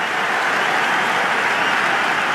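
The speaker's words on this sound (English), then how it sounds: "It's evident and ever so audible that the crowd is at near bursting point at today's play" Dense, steady roar of a stadium crowd cheering at a T20 cricket match between India and South Africa in the Cricket 26 video game, loud and continuous with no break.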